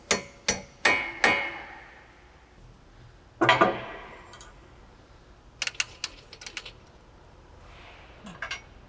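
Metal hammer strikes driving pins out of a Shelby GT350R brake caliper: four sharp close blows, a pause, one heavier ringing hit, then lighter scattered metallic taps.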